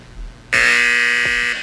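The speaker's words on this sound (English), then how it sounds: "Did you hear that buzzer?" On a 1972 TV game show, a loud, harsh electric buzzer sounds abruptly and holds steady for about a second before cutting off, alone with no talk.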